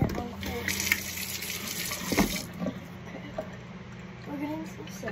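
A hot-water tap runs steadily into a bathroom sink while hands are washed, a continuous close gush with brief splashy bursts, with someone talking over it at times.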